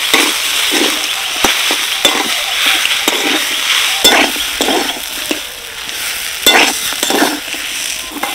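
Potato cutlet filling with whole garam masala and chopped coriander leaves is stirred in a pan, a rhythmic run of close scraping strokes over a light sizzle, loud and without any voices.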